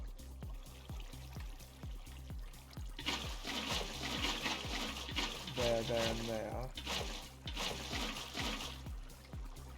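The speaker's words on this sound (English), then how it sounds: "I'm going to fill this up with water" Water being poured in the video game Minecraft, a trickling, splashing flow over a steady rhythmic background beat, with someone talking briefly.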